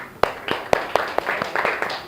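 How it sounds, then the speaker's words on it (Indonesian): A few people clap for everyone during an online class session, sparse uneven claps in loose rhythm, about ten sharp hits over two seconds. "Oke, tepuk tangan dulu untuk semua."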